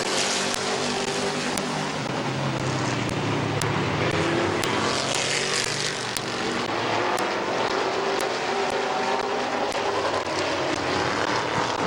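Race cars lapping at Midvale Speedway, a continuous loud engine roar from several cars with rising and falling pitch as they pass, steady throughout.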